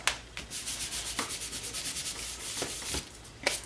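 A glued paper piece being rubbed down onto a handmade card: close, rhythmic dry scraping strokes repeating quickly, with a few sharper brushes, and no talking.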